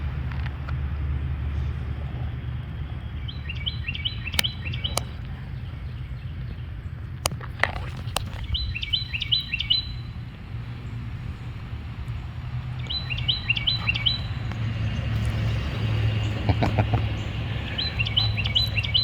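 Repeated bursts of bird chirping ring out outdoors near a street, in short clustered phrases every few seconds over a steady low hum of traffic and motion, with occasional clicks and knocks nearby.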